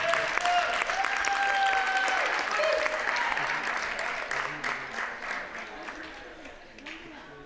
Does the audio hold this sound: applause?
yes